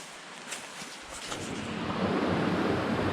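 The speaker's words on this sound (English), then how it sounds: "I guess this is a branch of the Rattle River" A branch of the Rattle River flows near the Shelburne Moriah trail, a broad steady rush of running water that swells louder over a few seconds, with some wind buffeting the microphone.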